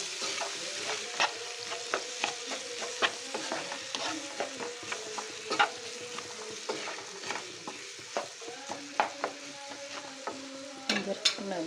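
Spiced food with black pepper, paprika and salt frying in a pan, a soft continuous sizzle under frequent rhythmic scrapes and taps as a utensil stirs it.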